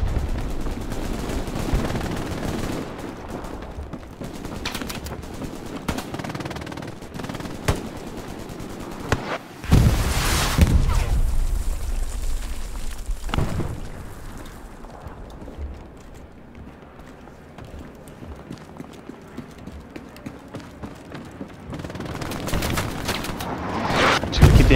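Machine gun bursts ripple through a Hell Let Loose infantry battle around a church, with rapid rattling volleys and sharp single gunshots, some loud and close, others thinner and more distant, alongside explosion-like thumps and a lull in the middle.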